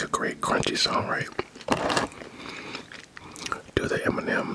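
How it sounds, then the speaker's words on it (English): Someone eating an M&M's McFlurry close to the microphone, with wet chewing, crunching of candy pieces and soft mouth sounds in several bursts, mixed with quiet whispering. "Do the M&M's and a McFlurry sound better than the Oreo McFlurry sounds when I eat it?"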